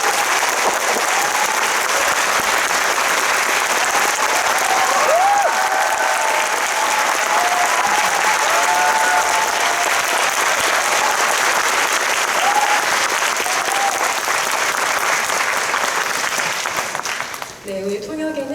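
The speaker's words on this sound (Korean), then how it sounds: "아까보다 더 뜨거운 박수로 두 분을 맞이해 주시기 바랍니다." Sustained loud applause from a cinema audience at the Busan International Film Festival, welcoming the director and an actor on stage for a post-screening talk at the Busan Cinema Center's Haneul Theater, steady for most of the stretch before tapering off near the end.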